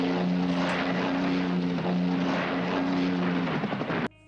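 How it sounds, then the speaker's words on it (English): A helicopter engine and rotor drone loudly and steadily at close range, then cut off abruptly near the end as the pilot chops the throttle. "Did you hear the pilot chop the throttle right at the very end there?"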